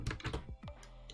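Quick keystrokes on a computer keyboard while entering text into a Microsoft Word document, a short run of about six close, crisp taps with no talking.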